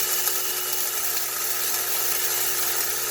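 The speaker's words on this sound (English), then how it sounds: "I like to grind it up pretty fine because I like my coffee fairly strong" An electric grinder runs steadily on coffee beans, giving a loud, continuous whirring buzz close by with no break and no talking.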